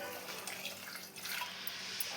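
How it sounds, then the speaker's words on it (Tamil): Water is poured into a pot of lentils for a snake gourd kootu: a soft, steady splashing pour lasting a couple of seconds with a brief dip midway, with no talking. "தேவையான அளவுக்கு கொஞ்சம் தண்ணி சேர்த்துக்கிறேங்க"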